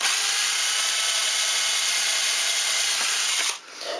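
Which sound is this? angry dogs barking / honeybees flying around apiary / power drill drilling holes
power drill drilling holes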